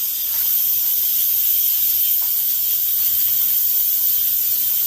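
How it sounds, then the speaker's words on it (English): Steady loud hiss of steam venting from a pressure cooker of gluten-free chicken and dumplings during pressure release, continuous and close with no talk. "So I'm going to release pressure on it."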